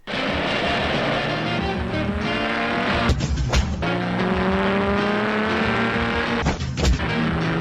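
A Triumph Spitfire sports car in an advertisement, its engine revving loudly and continuously while tires squeal in long sustained skids, with a couple of brief breaks in the sound.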